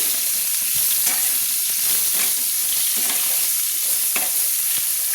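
Potatoes with turmeric and salt fry in a pan, giving a loud, continuous sizzle while a utensil scrapes and stirs them in repeated strokes, with no talking.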